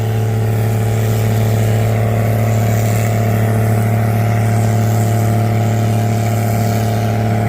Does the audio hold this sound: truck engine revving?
yes